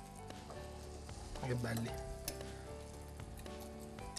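Artichokes fry in a pan with a steady, close sizzle and crackle, some stirring noises, and a brief spoken comment over the frying.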